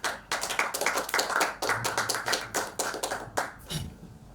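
A classroom audience claps in unison, a quick run of sharp, close hand claps in a brisk rhythm that thins out and stops near the end.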